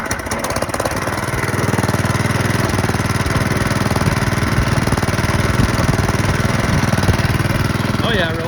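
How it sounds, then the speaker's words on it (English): An old Honda pump engine runs steadily, close and loud, with a continuous rough mid-pitched drone and fast rhythmic chugging throughout. "So we'll see if the old Honda will start today."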